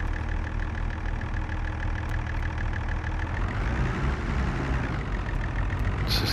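A tractor engine idles in Farming Simulator 22, a steady low mechanical rumble with a faint whine riding on top, holding an even level throughout without any voices.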